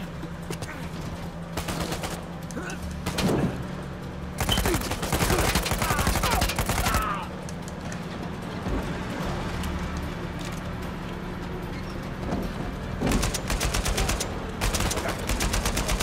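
Bursts of gunfire from the video game Uncharted 4, loud and repeated in several volleys, with a steady background hum between them.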